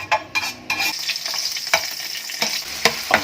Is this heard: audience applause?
no